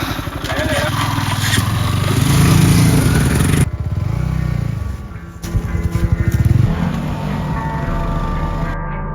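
A motorcycle engine idles and revs in uneven bursts close by, with people talking over the rattling motor.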